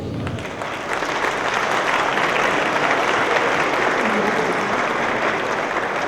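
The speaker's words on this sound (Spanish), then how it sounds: "Démosles un fuerte aplauso." Loud sustained applause from an audience at a justice panel event, dense clapping starting abruptly and continuing evenly throughout.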